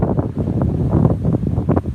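Strong wind buffets the microphone outdoors at Pamukkale, a steady rumbling roar that drowns out everything else for the whole moment.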